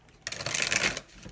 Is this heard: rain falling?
no